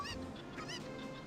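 Angry chickens squawking and honking in the video game Distorted Travesty 3, harsh repeated bird calls over a steady game background, close and fairly loud.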